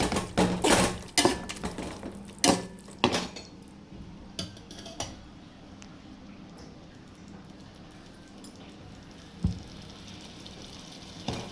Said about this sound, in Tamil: சேர்த்த விழுதை நல்லா மிக்ஸ் பண்ணி விட்டுக்கலாம்.